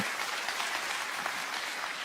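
Congregation clapping in church, an even, continuous round of applause from many people at moderate volume, with no voices on top.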